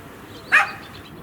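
A single short dog bark sounds in the background of a workshop where a teardrop-style sleeper trailer body is being built. It is brief and mid-distance, over a low, steady room noise.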